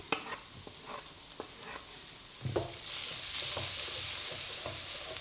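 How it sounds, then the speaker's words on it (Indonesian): Garlic sautés in a little hot oil for stir-fried mustard greens, with scattered clinks and scrapes of stirring at first, then a steady close sizzle that swells and holds. "Panaskan sedikit minyak, kalau sudah panas bawang putihnya ditumis."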